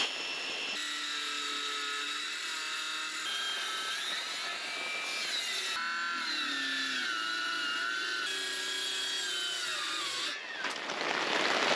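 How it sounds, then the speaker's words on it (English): Wood being sawn during off-grid bathroom building work, a steady grinding rasp with whining, shifting pitch that carries on for several seconds alone, with a brief louder burst near the end. "let's have a little bit of sawing."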